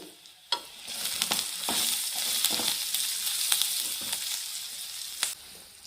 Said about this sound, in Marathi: आणि हिंग चांगले असे फ्राय करून घेते